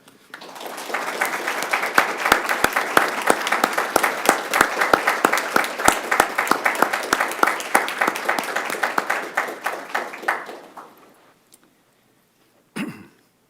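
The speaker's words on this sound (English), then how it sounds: "I would ask everyone to please join me in thanking and recognizing our outstanding Public Works team through a round of applause." Council meeting attendees give a long round of applause for the city's Public Works team, a full, sustained clatter of many hands lasting about ten seconds before fading, followed by a brief noise near the end.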